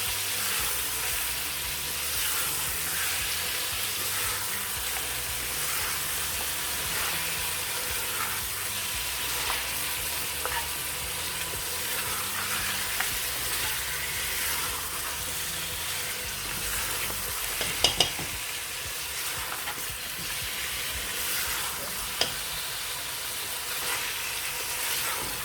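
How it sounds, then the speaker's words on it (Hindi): Meat sizzles steadily in oil in a pot for a Turkish stew, a continuous close frying hiss with occasional stirring clinks and scrapes, no talking. "अब गोश्त डाल के गोश्त को भी अच्छी तरह से भूनेंगे।"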